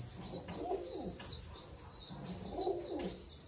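Madrasi pigeons in a loft with young birds cooing, soft throaty coos rising and falling in two repeating bouts over a constant bright background chatter, fairly close and steady.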